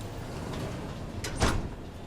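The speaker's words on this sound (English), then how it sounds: "You opened the door, didn't you?" A sliding door in the video game Starfield opens with a brief mechanical whoosh and hiss, a soft swish followed by a louder, sharper burst over quiet ambient game background.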